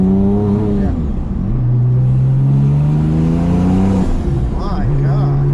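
A tuned 1000-horsepower Porsche 997 911 Turbo accelerates hard from inside the cabin, its loud engine climbing in pitch through several gear changes, with people talking over it.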